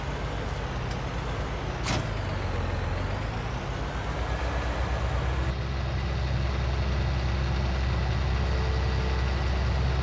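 Tractor engine idling in Farming Simulator 19, a steady low diesel drone holding at an even level with a brief higher whine partway through, and no voices.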